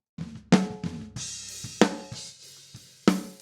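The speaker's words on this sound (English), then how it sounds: "So it's kind of a gated reverb" A handful of sharp snare hits, each followed by a short, dense burst of reverb that cuts off abruptly, scattered among other drum strokes.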